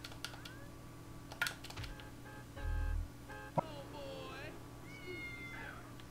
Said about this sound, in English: I keep hearing a kitten.